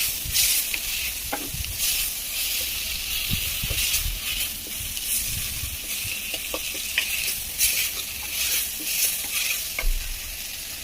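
Ginger and garlic fry in a pan, crackling loudly and closely in a steady sizzle broken by stirring scrapes and knocks, with no voices.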